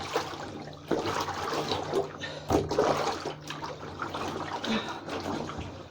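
Items are rinsed in a tub of dirty water, with continuous sloshing, splashing and dripping that surges in a few louder bursts as things are moved through it.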